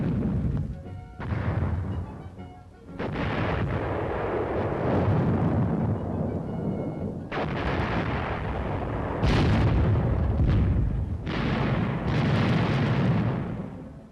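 Army artillery fires during training at Camp Fuji in Japan: a series of heavy booms with rumbling, noisy tails, several blasts spaced a few seconds apart over a constant roar on an old film soundtrack.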